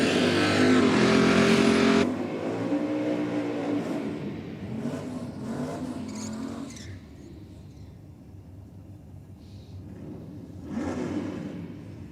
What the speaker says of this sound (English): the Challenger down here, about to take on the Stutchbury Commodore.